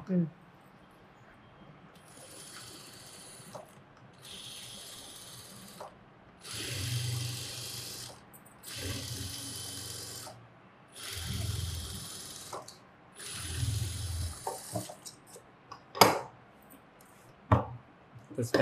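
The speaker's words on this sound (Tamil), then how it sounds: "இந்த மார்க் பண்ணியிருக்கிறோம்ல, அது மேலே தைச்சிடலாமா?" Sewing machine stitching an umbrella churidar during a tailoring class, running in about five steady mechanical bursts separated by pauses, with faint talk and light handling noises between runs.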